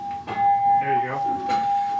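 Bell rung on a heritage steam train at Blue Mountain Lake in the Adirondacks, a steady ringing tone held throughout while people talk over it.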